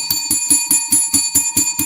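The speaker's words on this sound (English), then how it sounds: "let's ring the bell for both of them" A bell rung rapidly in a steady rhythm, about eight bright, ringing strikes in under two seconds, loud and close with sustained metallic overtones and no talk.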